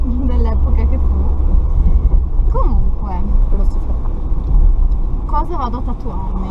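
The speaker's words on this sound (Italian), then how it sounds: "Lasciate perdere se sentite rumori strani, ma è una macchina dell'epoca che fu." An old vintage car rumbles and rattles while driving, a loud steady low engine drone with intermittent odd noises running beneath someone talking throughout.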